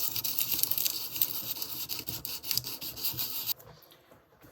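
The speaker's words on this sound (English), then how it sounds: "I'm just going to very lightly sand it." Light hand sanding of an old painted wooden piece, a steady close scratchy rasp of repeated strokes that stops abruptly near the end.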